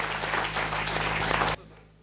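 A crowd applauds at a church consecration ceremony in a village, with loud steady clapping from many hands that cuts off abruptly after about a second and a half, leaving a faint low hum.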